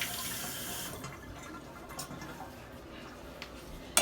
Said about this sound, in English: we are always rinsing and cleaning as we go